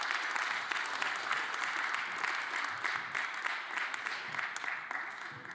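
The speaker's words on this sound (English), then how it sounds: "please, one big round of applause for all the athletes" Spectators applaud the athletes at a junior women's 10m air rifle team shooting competition, steady dense clapping sustained at even strength for over five seconds.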